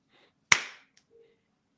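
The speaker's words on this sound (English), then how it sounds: "Like a single soft clap. Rather loud, like thundering crack" A single sharp, loud clap-like crack strikes suddenly and rings out in a reverberant decay lasting about a third of a second, followed by faint small sounds in near silence.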